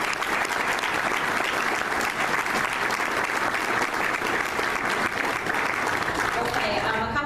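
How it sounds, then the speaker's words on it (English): Breakfast attendees at a chamber of commerce candidates' event applaud with dense, steady clapping that fades near the end as a voice begins speaking. "So let's give them a big round of applause."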